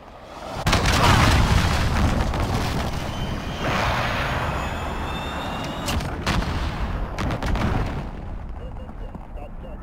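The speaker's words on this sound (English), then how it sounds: "Enemy cruise missile." Enemy cruise missile strikes in Call of Duty Modern Warfare: a sudden heavy boom opens into a long, loud rumbling roar of blasts and debris, with further cracks and thuds later as the noise slowly fades.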